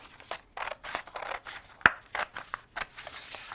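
Scissors cutting paper along drawn lines for an urban landscape art project, a series of close, crisp snips at an uneven rhythm, one sharper cut standing out midway, with no talking.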